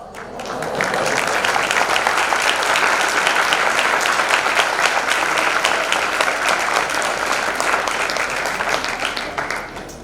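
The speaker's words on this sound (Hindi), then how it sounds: "आपकी करतल ध्वनि से, तालियों की गड़गड़ाहट से" Thunderous applause from a large crowd at a Jain religious gathering after a sermon, a long, steady roar of dense clapping that swells in, holds evenly for several seconds and fades at the end.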